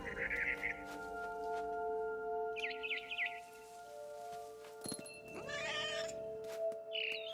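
A cat meows in several short bursts outside a window near a barn swallow's nest, with chirping bird calls mixed in against a steady hum.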